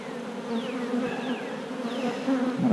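Honeybees buzz around an open hive while a queen is handled during an inspection, a dense, close, steady drone with a few individual bees swooping past, and no talking.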